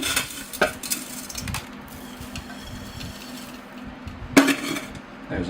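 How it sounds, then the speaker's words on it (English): Loose potting soil scraped and scooped into a deep bonsai pot while repotting a downy willow, giving soft gritty rustles with a couple of sharper knocks and clinks against the pot. "I'll have to put a fair amount of soil in here because this is quite a deep pot."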